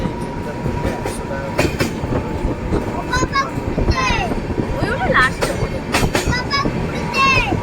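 A train rolls along the track through hilly country near Visakhapatnam, its steady rumble and rail clatter continuing throughout under nearby conversation.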